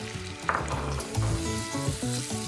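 Minced meat browns with softened onion in a pan, giving a steady, close sizzle and crackle of frying. Occasional stirring scrapes sound through it, and nobody speaks.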